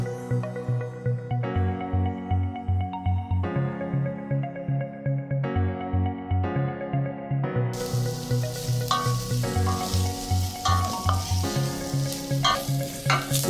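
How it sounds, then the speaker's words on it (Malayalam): Onions sauté in a pan for chicken curry, a soft, steady sizzle with occasional stirring, heard under rhythmic background music. "ഉള്ളി നമ്മളൊരു ലൈറ്റ് ബ്രൗൺ ആകുന്ന വരെ ഇങ്ങനെ ചെയ്തുകൊണ്ടിരിക്കണം"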